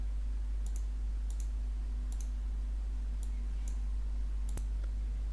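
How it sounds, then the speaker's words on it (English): Sharp computer mouse clicks during Windows 11 desktop customization, about a dozen quick clicks mostly in pairs, spread evenly over a quiet background with a low steady hum. "click on Save"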